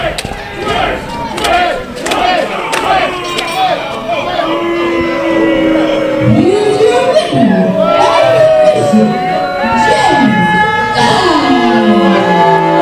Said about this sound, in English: Obviously, the crowd is upset.